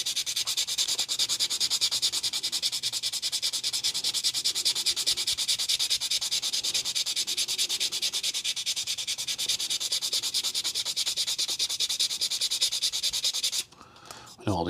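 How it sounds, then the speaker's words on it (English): Steady, close rubbing scrape of 240 grit sandpaper thinning a part of an Artesania Latina 1/16 scale Sopwith Camel wooden model aircraft, continuous for most of the stretch before briefly stopping near the end. "So what I'm going to do now is just take a 240 grit and then just start to just thin it out a little bit."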